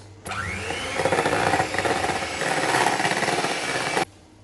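Icing being whisked for red velvet mini cupcakes after icing sugar is added, a steady loud whirring mechanical mixing drone running for about four seconds, then stopping abruptly.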